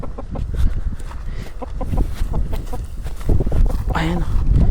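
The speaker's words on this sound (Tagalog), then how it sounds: "Paalam na sa aking mga manok." Backyard chickens cluck softly in short bursts, with a louder call near the end, mixed with rustling and footsteps while a person talks nearby.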